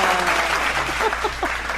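Brief applause from an audience at a Bicol gathering, a steady patter of many hands close by, with a voice speaking faintly underneath.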